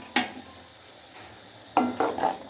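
Ground masala paste being stirred into tomato and oil in a pan for empty salna: a few scraping spoon strokes against the metal pan, one early and a cluster of clattering scrapes later, over a soft sizzle.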